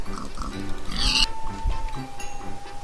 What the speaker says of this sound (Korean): 오 돼지가 많네요